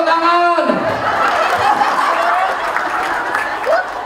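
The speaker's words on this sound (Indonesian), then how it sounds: "Tepuk tangan." An indoor audience at a community health talk claps briefly, with scattered chuckles and a voice talking over it.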